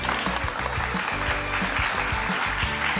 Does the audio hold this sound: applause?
yes